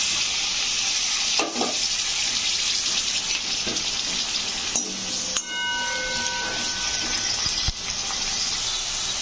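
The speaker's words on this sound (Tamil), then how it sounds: "வெங்காயம் நல்லா வதக்கிட்டு" Onions, green chillies and curry leaves sauté in hot oil with cumin, giving a steady close sizzle and hiss with occasional stirring clinks against the pan and no talk.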